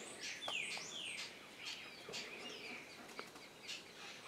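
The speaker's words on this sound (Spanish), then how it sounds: "contemplar cómo las aves se alimentan en el folí" Wild birds at a feeding spot chirp and call repeatedly, with short tweets and brief whistled notes scattered over a steady outdoor background hiss.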